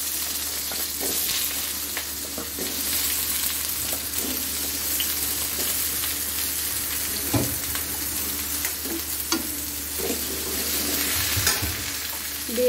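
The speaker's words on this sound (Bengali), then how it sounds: "বন্ধুরা এখানে আলুটা ভেজে নিচ্ছি" Sliced potatoes frying in oil in a pan, a steady close sizzle with occasional soft taps and stirring clicks, and no talking.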